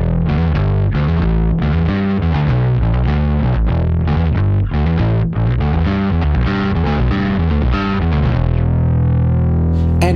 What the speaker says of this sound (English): It's got a fuzz that's based on the Russian big muff circuit